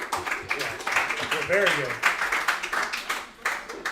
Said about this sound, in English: Let's clap up dessert.